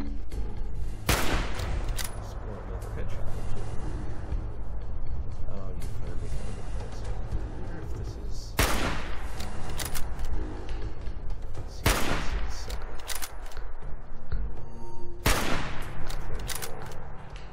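Fallout 4 gunfire breaks out as several sharp, loud shots at irregular intervals over a dense, continuous game soundscape.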